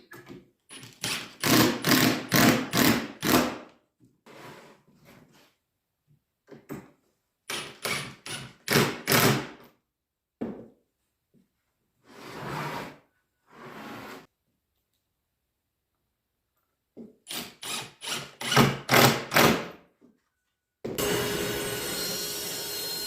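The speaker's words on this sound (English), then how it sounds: "But we're going to do it on the table saw." Table saw ripping a crooked wooden board to a straight edge, with several loud bursts of cutting separated by quiet pauses and handling noises, close up and without talk.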